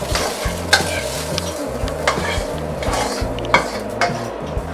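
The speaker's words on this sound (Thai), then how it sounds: "แล้วก็เราก็จะนำเไส้อั่วที่เราเตรียมไว้นะคะ ลงไปคลุกด้วยนะคะ" Spaghetti being stirred with sausage in a hot pan, sizzling and frying steadily while a utensil scrapes and clinks against the pan in repeated strokes, close and clear with no talk.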